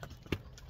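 Cows passing on a farm during a potato-season check, with a single close hoof clop on hard ground standing out over a soft, steady background.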